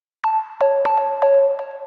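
A short synth pluck preset built in Serum with an 11 ms envelope and no sustain plays a run of five or six bright, bell-like plucked notes, each with a quick attack and a fast decay.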